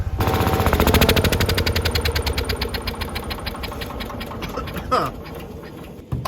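A Winnebago engine runs indoors with a loud, rapid, rough pulsing beat, steady for several seconds before sputtering and changing near the end.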